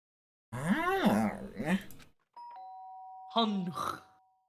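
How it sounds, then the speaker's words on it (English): An electronic doorbell chime in the video game Danganronpa: Trigger Happy Havoc, a clean sustained two-tone ring sounding between stretches of game character speech. "The sharp sound of the doorbell pierced my sleepy haze and pulled me back to the real world."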